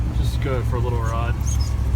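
A 1988 Land Rover Defender 130 rolls along with a constant low engine and drivetrain rumble inside the cabin while someone talks over it.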